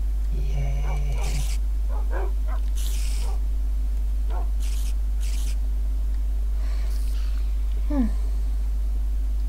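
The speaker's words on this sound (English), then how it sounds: "Crazy man, all those dogs." Several dogs in a video game bark and whimper in short scattered bursts over a steady low hum, with a few sharp yelps standing out against the game background.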